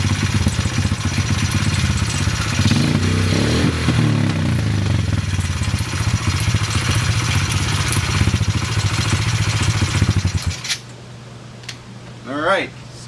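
A Honda CRF50 dirt bike engine runs loudly and close for about ten seconds, a steady buzzing putter that cuts off abruptly, leaving quiet room noise and a brief voice.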